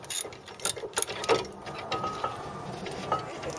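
Ratcheting and metallic clicking while the second brake caliper bolt is removed from a Ford Fiesta Mk7 front brake, brief mechanical bursts at close range with no talking.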